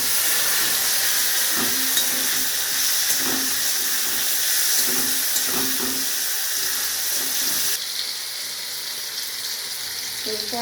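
Salt-soaked mushrooms frying in a pan, a steady hissing sizzle with a few soft stirring knocks, close and even throughout, the sizzle easing slightly near the end; no talking.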